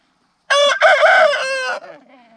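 A loud, close rooster crow rings out once, a long harmonic cock-a-doodle-doo that trails off into softer clucking.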